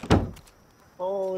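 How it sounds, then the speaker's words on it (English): A door in the game Rust shuts with a single sharp thud followed by a short fading rattle, then a steady droning tone sets in. "Oh, oh shit, shut the door!"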